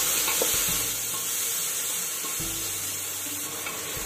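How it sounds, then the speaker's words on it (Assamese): Onions for chicken biryani fry in a pressure cooker with a continuous hissing sizzle, broken by a couple of soft stirring scrapes and thumps. No speech. "আৰু পিয়াজখিনি ৰঙচুৱা বৰণ নোহোৱালৈকে মই ভাজি থাকিম"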